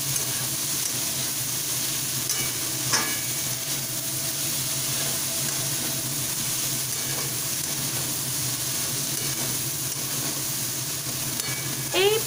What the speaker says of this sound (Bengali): আদাটাকে একটুখানি ফ্রাই করে নিয়ে পুরো সবজির সাথে মিক্স করে দিলাম।